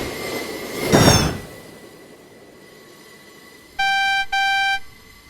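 A loud metallic screech of train wheels as a GE E60 train derails in a Roblox game, followed by two sharp, high-pitched squeals in quick succession against a low rumbling background.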